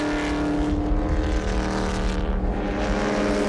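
Sports race cars circulate on track at Road Atlanta, a continuous high engine whine with layered harmonics rising and falling as the cars pass through the circuit, moderately loud, with no talking.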